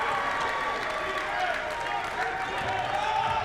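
Basketball crowd at a men's college game applauding and cheering after a made three-pointer, a dense wash of clapping and voices that holds steady throughout at close, loud level.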